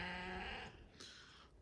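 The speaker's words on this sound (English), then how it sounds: "They're Southdown baby doll sheep." A Southdown babydoll sheep bleats once, a short wavering tonal baa fairly close by, then trails off into a breathy fade.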